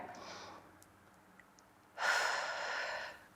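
A deep breath drawn and released during a side-bending stretch in a mobility and core class, a soft airy exhale rising sharply and holding steady for over a second, close and alone.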